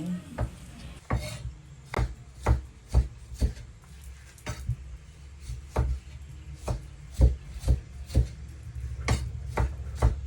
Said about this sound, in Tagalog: Gagayit na tayo ng ating ingredient yung kamatis